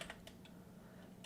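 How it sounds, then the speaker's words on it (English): Quiet keystrokes on a computer keyboard, a few light clicks scattered across a brief moment, close but faint over a soft background hum. "I'm going to type in the chat."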